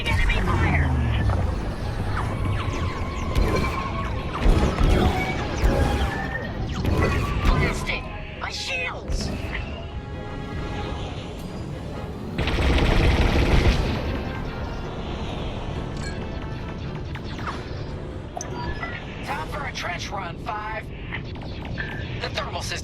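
Enemy fire striking a starfighter in the video game Star Wars: Squadrons, with dense rumbling booms and bursts over a continuous engine roar, under overlapping voices speaking throughout.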